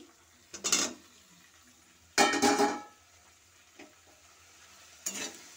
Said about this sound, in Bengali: এই সব কিছু উপকরণ দিয়ে আমি আরও একটু নাড়তে থাকবো 1 মিনিট